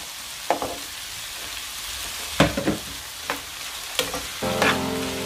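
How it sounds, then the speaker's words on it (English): Green pepper frying in a pan for Nigerian fried rice, a soft steady sizzle broken by a few sharp clanks and scrapes of stirring, with a brief brighter hiss near the end as the pepper hits the hot oil. "now I will be adding the green pepper inside now to fry."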